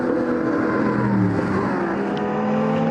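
A pack of R0–R3 category race cars released at the Val de Vienne circuit, engines droning and accelerating together in a loud, sustained roar of overlapping revs.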